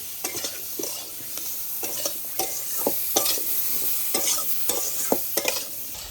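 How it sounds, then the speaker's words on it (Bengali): Pieces of pointed gourd (potol) fry in oil with a little turmeric in a pan, a steady sizzle broken by repeated scrapes and knocks of a spatula stirring them, close and fairly loud with no talk. "বেশ ভালোভাবে পটলগুলো বেশ ভালোভাবে ভাজতে হবে।"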